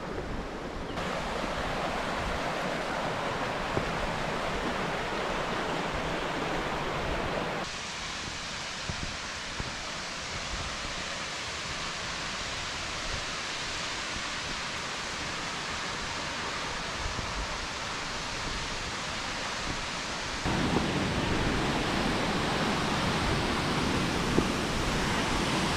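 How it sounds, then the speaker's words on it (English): Masarooni Waterfall on the slopes of Kilimanjaro in Tanzania roars steadily nearby, a dense continuous rush of falling water that shifts slightly in loudness as the listener moves, with no voices. "So we've now made it to the Masarooni Waterfall"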